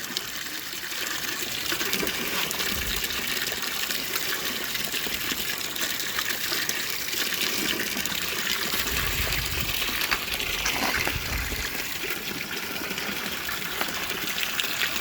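Water gushes steadily through a gold mining sluice at Roaring Camp in California, a continuous loud rushing and splashing flow with occasional deeper sloshes of water moving over rocks.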